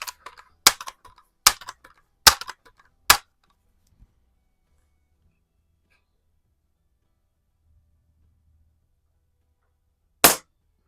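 A Daisy model 822 .22 caliber multi-pump pellet rifle fires in a garage: five sharp, dry snaps in quick succession, then a long quiet stretch before one more crisp shot near the end.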